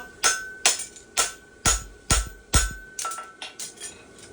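A blacksmith's hammer flattens a plain stamp front horseshoe on an anvil, ringing out in about ten sharp metallic blows at a steady, slightly quickening rhythm, each strike clanging then decaying.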